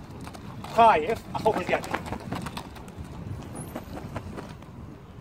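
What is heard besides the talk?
hooves of an Arabian horse clip-clopping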